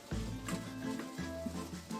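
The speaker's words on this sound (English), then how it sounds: "we're getting that beef and flour mixture all mixed up" Soft stirring and scraping of beef and flour in a pan with a faint sizzle underneath, quiet and close, in short irregular strokes.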